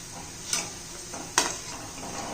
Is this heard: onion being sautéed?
yes